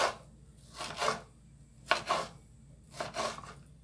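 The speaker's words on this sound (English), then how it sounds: "just basically slice the tomato up and cut into smaller pieces" A knife cuts a tomato into smaller pieces on a board, making four distinct, crisp slicing strokes spaced about a second apart, close and fairly quiet, with no talking.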